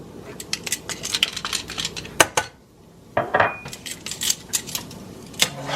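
Garlic, ginger and green onions in sesame oil get stirred in a pan, with a series of sharp metallic scrapes and clinks of a utensil against the pan, irregular and close, with brief pauses.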